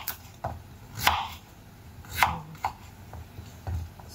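Several sharp knife chops cut through small pumpkins on a board, spaced unevenly about a second apart, close and crisp with no talking.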